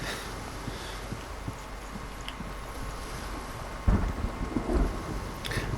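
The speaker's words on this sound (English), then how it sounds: "On a dock out into the stormy sea." Thunderstorm and rain over a stormy sea at a dock in the Hellblade video game: a steady rain hiss with a low rumble, then a louder thunder crack and rolling boom near the end.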